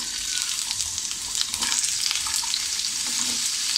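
Potato pieces crackle and sizzle steadily in hot oil in a pan, a continuous bright frying hiss with small bursts of spattering throughout.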